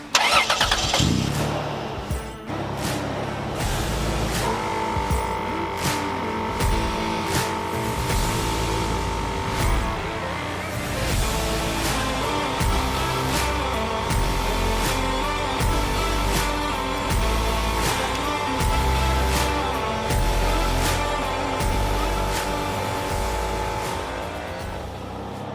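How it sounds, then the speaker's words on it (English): A MORRFlate tyre inflator compressor pumps steadily beside a running car engine, a loud continuous mechanical drone with a steady tonal whine held throughout, and no talking. "start the car, turn the compressor on, and this will start pumping up"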